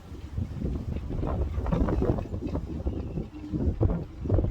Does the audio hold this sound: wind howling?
yes